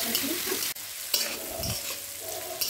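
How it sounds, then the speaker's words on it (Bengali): Beans and capsicum fry in a pan with salt, a steady close sizzle broken by stirring scrapes and a few metallic clinks, with no talk. "তারপর বিনস, ক্যাপসিকাম ভেজে নেব পরিমাণ মতো লবণ দিয়ে।"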